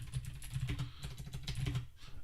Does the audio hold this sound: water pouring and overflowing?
no